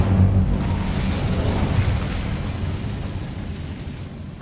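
An Incendio fire spell cast in Hogwarts Legacy, a loud, rumbling burst of flame that roars up at once and then slowly fades as a continuous fiery whoosh.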